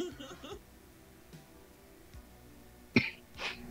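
A man coughs and clears his throat in a couple of sharp bursts, close to the microphone. Quiet background noise surrounds the coughs, with brief sounds of speech nearby.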